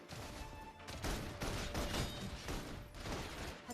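Concentrated gunfire from a video game, a thick rolling fusillade of repeated shots and crashes at a steady loud level, with no talk.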